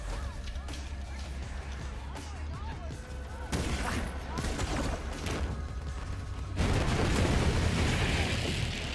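Sustained gunfire in Borderlands 3, a loud continuous fusillade of rapid shots and impacts that intensifies partway through and again near the end, with speech mixed in.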